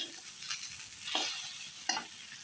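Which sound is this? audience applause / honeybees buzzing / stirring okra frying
stirring okra frying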